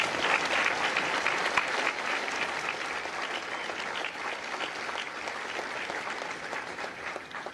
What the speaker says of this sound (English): would you please join me in a round of applause for the families of Echo Company